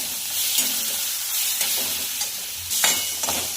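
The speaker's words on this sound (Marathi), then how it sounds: "आपलं जाडसर आलं, लसूण आणि हिरव्या मिरचीचं वाटण।" Coarse ginger, garlic and green chilli paste fries in hot oil for samosa filling, giving a steady close sizzle broken by several quick stirring scrapes and clinks.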